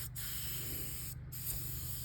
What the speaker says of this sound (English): start my spray, and I'm just going to spray a light mist